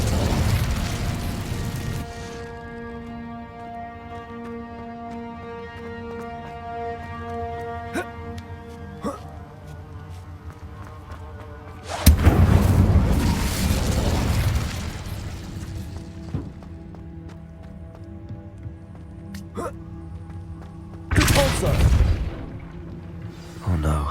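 An Incendio fire spell cast in the wizarding game Hogwarts Legacy, three loud whooshing fiery bursts spaced apart over a sustained tonal musical drone, the middle burst loudest, with a voice heard in between.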